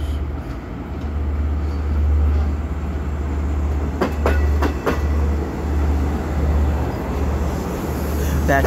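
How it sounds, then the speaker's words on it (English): Freight train #8776 being parked at a rail yard, a steady low engine rumble with a run of clanking wheel and coupler knocks midway, close and continuous. "And they're parking the train right here."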